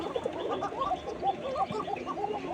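Female pigeons cooing in a loft, soft repeated throaty coos overlapping in a steady murmur, close and fairly quiet.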